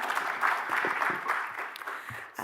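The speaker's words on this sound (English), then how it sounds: "Can we have one more round of applause to our panelists?" An audience at an Africa Week session claps for the panelists, a moderate, steady round of applause that swells and then tapers off near the end.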